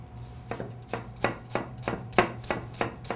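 Knife chopping a peeled red onion on a cutting board, eight or nine crisp, evenly spaced cuts close up, with a steady low hum underneath.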